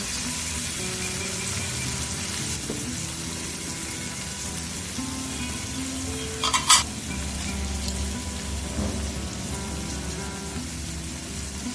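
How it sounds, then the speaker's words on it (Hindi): Mixed vegetables and peas for chicken chow mein fry over a high flame in a pan, giving a steady, broad sizzle throughout with a brief louder scrape of stirring partway through, and no talking. "अब इसमें हम बाकी सारी वेजिटेबल्स ऐड करेंगे।"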